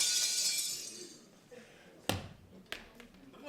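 A window pane's glass breaks, apparently struck by a ball during a community theatre street-scene performance, a sharp loud crash followed by a second smaller crack after a quiet pause.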